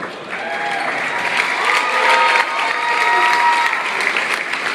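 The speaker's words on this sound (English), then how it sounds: "Why don't you stand up so we can give you a big round of applause." A high school crowd at a J.J. Pearce event applauds and cheers a player's parents, with dense, sustained clapping throughout and some voices and cheers rising within it.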